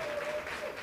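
Audience applause for students at a college State of the College address, a steady wash of clapping from a crowd with a faint tone running through it, brief and continuous.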